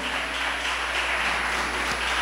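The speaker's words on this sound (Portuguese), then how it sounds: "Gostaria que você aí aplaudisse ao Senhor" Steady, continuous applause from an audience at a graduation ceremony, a dense even wash of clapping filling the short moment with no voices on top.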